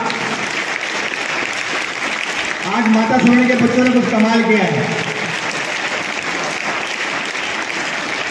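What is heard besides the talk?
applause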